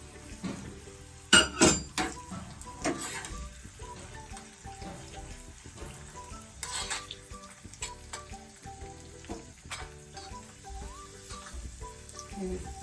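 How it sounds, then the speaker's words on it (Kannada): Cashews and raisins frying in hot ghee, a soft steady sizzle with occasional sharp metallic clinks of a spoon against the pan; no voices. "ತುಪ್ಪ ಕಾದ ನಂತರ ಗೋಡಂಬಿಯನ್ನು ಹಾಕಿ ಬ್ರೌನ್ ಕಲರ್ ಬರೋವರೆಗೂ ಹುರ್ಕೋಬೇಕು"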